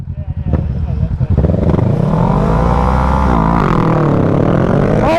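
A motorcycle with a freshly fixed clutch, ridden at night, revs hard and climbs in pitch during a wheelie, loud and close, with excited shouting at the start.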